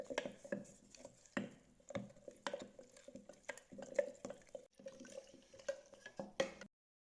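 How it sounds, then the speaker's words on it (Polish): A wooden spoon stirs sourdough starter ingredients in a jar, soft scraping strokes and light knocks repeating at an uneven rhythm, close and quiet, ending abruptly. "Wszystko dokładnie mieszamy drewnianą łyżką."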